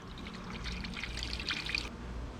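Sugar syrup bee food poured into the middle hole of a beehive feeder, a steady close trickle and splash of liquid running for a couple of seconds with no talking.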